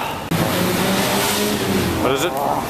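A Ferrari engine revs loudly and close by, a sustained rising roar with shifting pitch. Speech can be heard over it.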